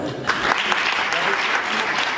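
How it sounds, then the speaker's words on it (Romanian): Dense audience applause fills an indoor event hall, steady and close, with some voices mixed in underneath. "Aplauze"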